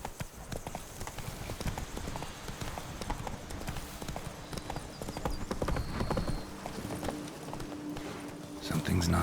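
Roach the horse from The Witcher 3 gallops with a rapid, continuous clip-clop of hooves that swells louder toward the end, with game voices and ambience underneath.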